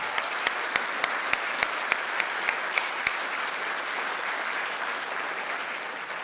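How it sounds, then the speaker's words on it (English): Audience applause fills a high school scholarship awards ceremony, a steady dense clapping from a seated crowd with a few sharper nearby claps standing out early on. "I think that deserves a clap."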